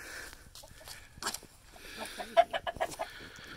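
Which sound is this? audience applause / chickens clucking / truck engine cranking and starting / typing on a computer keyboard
chickens clucking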